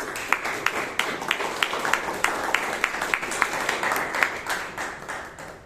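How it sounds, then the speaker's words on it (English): An audience at a Toastmasters meeting gives a round of applause, with a steady patter of claps and a few sharper, more distinct claps standing out, moderately loud and free of speech. "Let's give a huge round of applause."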